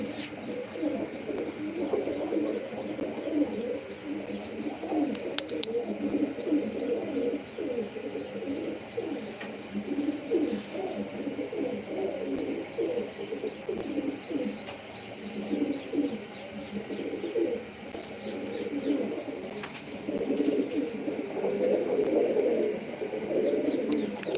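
Several pigeons coo in soft, repeated throaty rolls, overlapping and continuous, with faint chirps and background noise around them.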